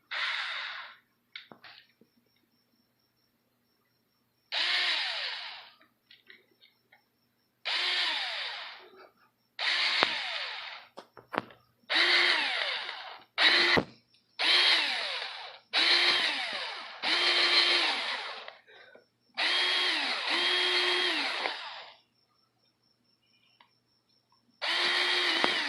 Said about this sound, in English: I'll drill my holes.